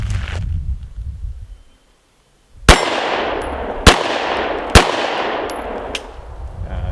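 Three 9mm handgun shots hit a steel plate target at an outdoor range, each a sharp crack with a bright metallic ring, evenly spaced after a brief quiet, followed by faint pings from the steel.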